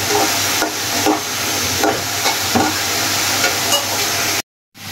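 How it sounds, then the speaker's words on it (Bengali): Paratha frying in a pan at home, a steady close sizzle with soft periodic scrapes and stirring touches, continuous until a brief drop-out near the end, no voices. "সাথে আম্মু বানাচ্ছে পরোটা।"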